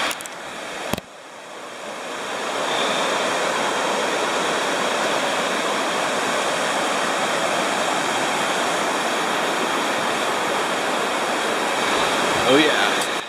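River water rushes in a continuous, loud, even roar, close by and unbroken for most of the stretch after a brief quieter start, with a couple of faint knocks near the beginning and end.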